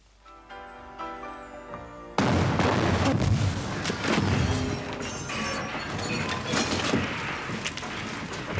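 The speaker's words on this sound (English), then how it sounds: "I've just blown up his car." A car blows up in a comedy sketch: quiet background gives way to a sudden loud blast, then a sustained roar of crashing debris and rumble that slowly settles.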